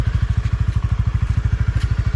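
A Winner X 150 motorcycle engine runs close by with a steady, rapid thumping pulse that stays even throughout. No voices are heard over it.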